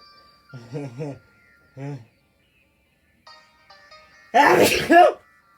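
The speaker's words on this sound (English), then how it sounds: "Oh, I'm gonna sneeze." A loud, close sneeze bursts out near the end, after a few short murmured vocal sounds and faint background tones.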